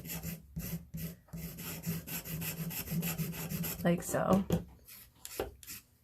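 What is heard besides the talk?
scissors edge scraping ink pad powder onto a block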